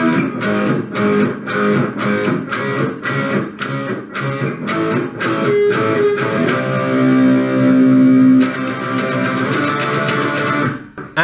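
Distorted electric guitar plays the pre-chorus of a song, starting with fast, steady strummed chords and moving into longer ringing chords, loud and close with no talking.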